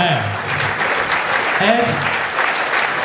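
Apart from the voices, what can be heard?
audience applause at school rugby awards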